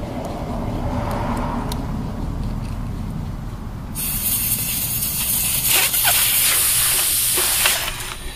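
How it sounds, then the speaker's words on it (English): Air hisses loudly out of a tire after its valve core is removed, a sudden broadband rush starting midway and holding steady, with quieter background noise before it. "So first let's start with removing the valve core so we can get all the air out of the tire."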